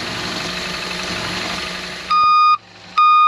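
A boat's high water alarm sounds in two loud, steady electronic beeps, the first about half a second long and the second starting after a short gap, cutting over a running pump or engine rumble.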